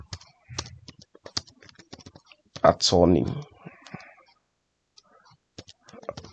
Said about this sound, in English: I think I should stick to just typing instead of writing.